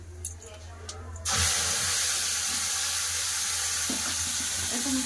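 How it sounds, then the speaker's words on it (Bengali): Tap water runs steadily into a mixer grinder jar being rinsed in a kitchen, starting abruptly after a quiet moment and continuing as a loud, even rush with a faint splash near the end. "এটা ধুয়ে জল দিয়ে দিচ্ছি মিক্সি জারটা"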